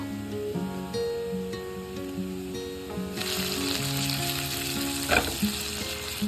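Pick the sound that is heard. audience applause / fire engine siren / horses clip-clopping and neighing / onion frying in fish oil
onion frying in fish oil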